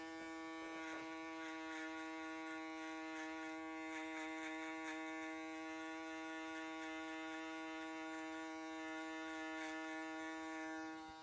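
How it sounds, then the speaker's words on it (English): An electric foil shaver buzzes steadily and evenly throughout, close and continuous, as it works over a client's hair during a barbering haircut; no one speaks. "before I move to a foil shaver"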